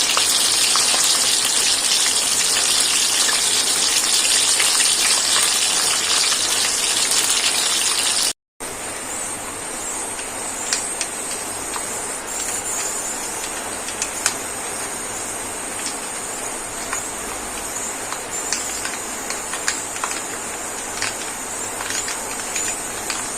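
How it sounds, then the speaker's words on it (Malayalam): Dense, steady crackling and spattering of mustard seeds popping in hot coconut oil, continuous throughout with a brief break, sharp pops scattered over a sizzling hiss. "വെളിച്ചെണ്ണ വെച്ച് കടുക് പൊട്ടി വരുന്നത്"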